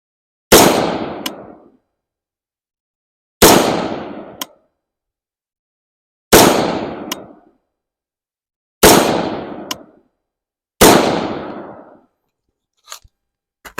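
Five rounds of IMI M193 fired one at a time from a Palmetto State Armory Sabre 13.7-inch rifle at a 50-yard target, each a loud sharp crack with a short decaying echo, spaced two to three seconds apart, then a few faint clicks.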